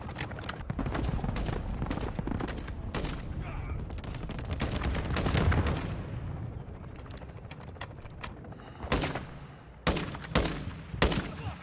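Sniper and rifle fire in a first-person shooter video game rings out as a rapid string of sharp, loud shots in bursts, with pauses and a few later clustered cracks.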